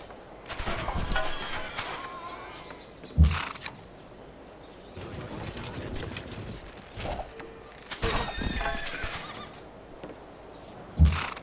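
Horse neighing and whinnying in the strategy game Civilization 5 (Gods and Kings), with two or three loud whinnies over hoof clip-clop and battle noise, no talk.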